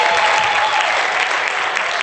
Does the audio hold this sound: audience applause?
yes